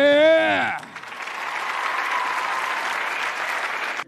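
Applause fills an MMA event arena for a Chinese fighter, a broad steady wash of crowd clapping that rises just as an announcer's drawn-out call ends and carries on for several seconds.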